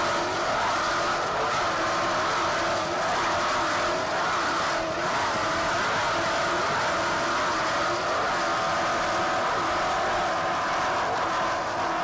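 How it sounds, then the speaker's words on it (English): Powerboat racing engine on a Systems team hull at the 1988 Key West World Cup, running at full throttle: a loud, steady, dense roar that holds without break for the whole stretch. "Boat sounds very strong right now."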